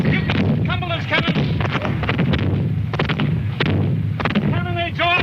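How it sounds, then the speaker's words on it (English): Rapid, heavy booms of cannon fire at the Battle of Culloden crash one after another close by, with voices shouting over the barrage. "Cannonades all around me."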